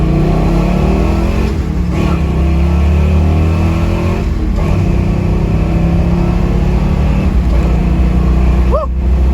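A 1966 Ford Mustang accelerates hard, its engine a loud, close, continuous roar climbing through the revs with brief dips at gear changes, wind and road noise mixed in.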